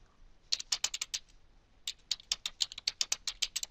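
Rapid computer keyboard typing with clustered keystrokes, a short burst, then a pause and a longer steady run of clicks, close and clear with no talking.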